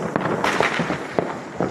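Festival fireworks and firecrackers pop and crackle repeatedly at an irregular pace, sharp bursts over a constant hissing, crackling background, with no voices.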